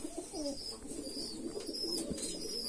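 Pigeons recovering from pigeon pox coo softly and repeatedly, their low, rolling calls blending into a steady, noisy background of the loft.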